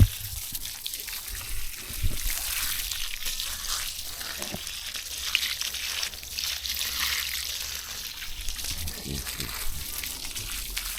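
Water sprays and trickles steadily while a garden is watered by hand, a continuous hissing splatter close by, with a person's voice heard intermittently underneath.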